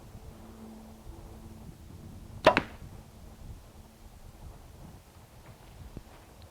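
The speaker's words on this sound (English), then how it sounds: "Let's go ahead and shoot this bow." A single arrow released from a Bowtech Invasion CPX compound bow, a short sharp snap and thud mid-clip against quiet outdoor background.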